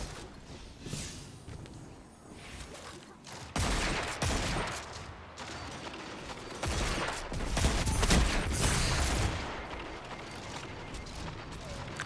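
Rapid gunfire from the video game Destiny 2, a dense sustained barrage of shots and crackling bursts that swells and fades over several seconds, played steadily throughout.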